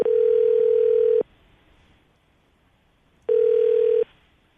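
An outgoing telephone call rings on the line: two long electronic ring tones separated by a quiet gap of faint line hiss, clear and close.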